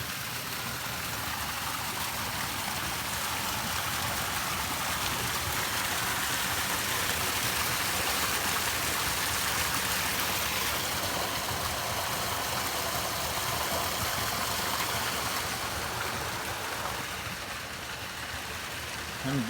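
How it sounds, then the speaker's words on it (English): A small waterfall on a California hiking trail makes a loud, steady rushing and splashing that fills the whole stretch without a break. "Little baby waterfall."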